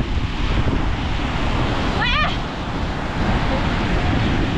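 Ocean surf washing onto a littered shore at Bucana, where large rocks were placed as a wave barrier. The roar is steady, loud and close, mixed with wind buffeting the microphone, and no one speaks.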